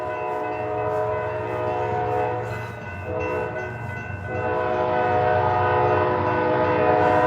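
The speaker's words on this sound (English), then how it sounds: "This is gonna get loud because this train's like right next to me." A train rumbles past very close, its horn blaring loud and sustained over the heavy rolling clatter of the cars.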